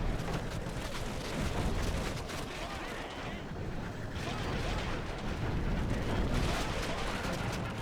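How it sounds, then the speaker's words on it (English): Artillery rumbles through a battle in LOTR Remastered as a dense, continuous roar of bombardment and distant impacts, loud and unbroken, with a voice speaking over it. "we are bombarding them quite nicely"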